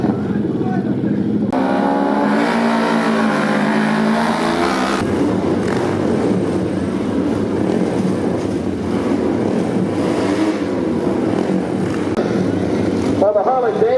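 Classic motorcycles in a vintage road race roar past in a continuous loud engine drone that rises and falls as they pass, with a race commentator talking over the noise.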